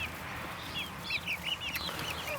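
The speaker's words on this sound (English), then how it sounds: "So He's a very friendly little chicken now." A small, friendly young chicken clucks and peeps in a quick series of soft, high chirps close by, over faint background noise, with no talking.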